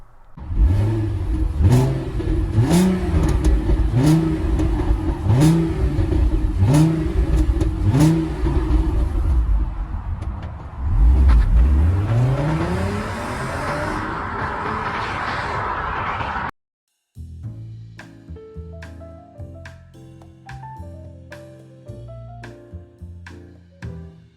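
An Audi TT MK1 with a 3.2 V6 pulls away and accelerates hard, its engine note rising and falling through several gear changes, loud and close. Near the end, music takes over.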